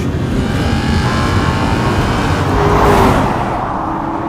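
An Aston Martin V8 Vantage driving, its engine a steady loud drone with a brief swell in revs partway through, accompanied by road and wind noise and no voices.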